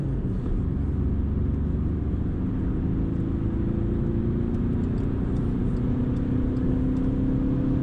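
A Volkswagen Polo Bluemotion engine drones steadily with a low rumble, its pitch gradually rising as it accelerates through the gears from 0 to 100 km/h.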